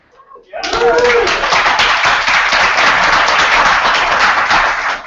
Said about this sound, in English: we can all clap for them